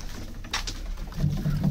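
Pigeons cooing inside a coop of birds offered for sale in Bangalore, a few soft, low throaty coos near the end over faint rustling background, no talk.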